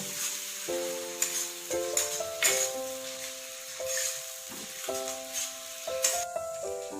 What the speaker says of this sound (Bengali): এবার এর মধ্যে দিয়ে দেবো টমেটো পেস্ট। টমেটো দিয়ে আরো 2 মিনিট মতন একটু ভেজে নেব।